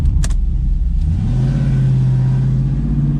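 A Chevy S10 truck fitted with an LS 5.3 V8 accelerates hard down a drag strip. The engine holds a loud, steady rising drone that stays close throughout, and no voices are heard.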